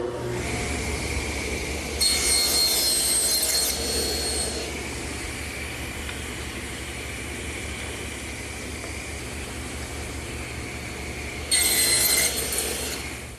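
A table saw cuts a tenon with the workpiece held upright in a cast tenoning jig, a steady loud motor whine and blade roar running throughout, rising in two brief louder bursts at the start and end of the passes.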